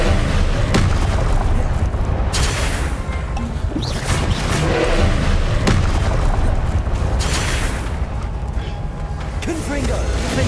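Spell blasts and explosions in Hogwarts Legacy, a dense barrage of booming bursts and crashes layered over continuous spoken incantations, loud and close throughout.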